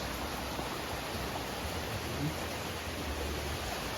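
Strong floodwater rushing in a steady, broadband roar, loud and continuous throughout with no breaks.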